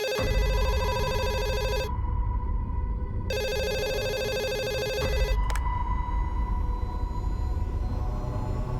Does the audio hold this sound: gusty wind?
no